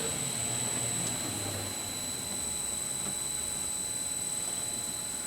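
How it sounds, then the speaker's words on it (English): Steady, loud broadband whir of a Timesavers Lynx 37MWT-D-60 wide belt sander running continuously, with a constant high whine over dense machine noise and a slight drift in pitch as the speed shifts. "so I can speed it up, slow it down, go a little bit faster"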